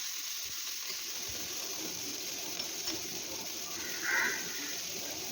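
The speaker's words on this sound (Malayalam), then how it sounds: "ഇനി ബീറ്റ്റൂട്ടും സവാളയും കാന്താരി മുളകും എല്ലാം കൂടി അതിലേക്കിട്ട് നന്നായിട്ടൊന്ന് വഴറ്റിയെടുക്കുക" Beetroot, onion and bird's eye chilies sauté in a pan for a beetroot chutney, giving a soft, steady sizzle and hiss at low volume with a brief louder burst of frying partway through.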